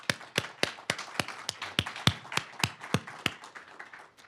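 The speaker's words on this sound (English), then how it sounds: "welcoming our speakers here with us today with a brief round of applause" A small group at a professional event gives a brief, sparse round of applause, about a dozen distinct claps at a moderate level, with no voices.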